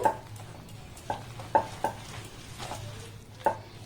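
A spoon stirs a semolina batter with blended mango in a bowl, soft scraping under several light clinks against the bowl's side, close and quiet, with no voices.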